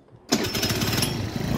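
A 2021 JM Motors 50cc four-stroke scooter engine catches abruptly after a quiet moment and settles into a steady, buzzy, close-up idle with a fast pulsing putter.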